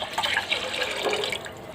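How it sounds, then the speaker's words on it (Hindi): Water poured into a pot of soaked rice for Bukhara-style Arabian rice: a close, splashing, gurgling stream of liquid filling the pot, steady and continuous without speech. "इसमें पानी कम है तो हम इसमें और पानी शामिल कर देंगे।"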